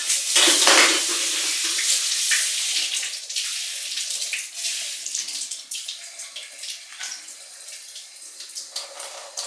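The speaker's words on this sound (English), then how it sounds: "I'm going to rinse this stuff and wash my hands" Tap water runs hard into a kitchen sink while spaghetti squash seeds are rinsed and hands are washed, a loud, continuous splashing rush that eases slightly toward the end, with no talking.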